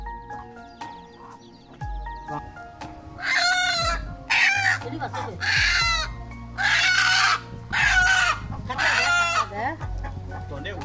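Chickens cluck and squawk in several loud bursts nearby, with lower rumbling and knocking sounds in between.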